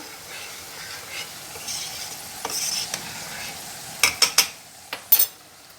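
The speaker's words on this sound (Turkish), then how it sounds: "Çorbamız da burada kaynıyor." Squash soup simmers in a pot with a soft, steady bubbling hiss, followed by a few sharp metallic clinks toward the end.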